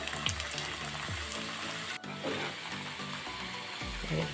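Paneer and pea samosas made with cooked rice are lowered one by one into hot oil in a kadai and fry with a steady, close, broadband sizzle that swells briefly as each piece goes in.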